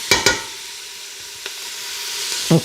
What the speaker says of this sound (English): You just want to stir everything around.